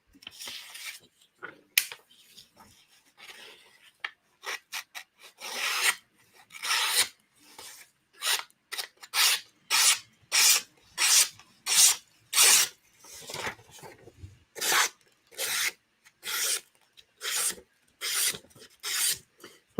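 Knife blade stroked across a 400 grit sharpening stone, a long series of close, crisp scraping strokes in a steady rhythm, sparse at first and then regular and evenly spaced, with no talk.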